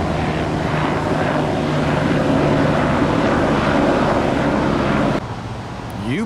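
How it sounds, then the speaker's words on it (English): A UPS MD-11 trijet cargo aircraft at Tampa International, a loud steady engine roar with wind noise that drops away sharply near the end. "UPS MD-11"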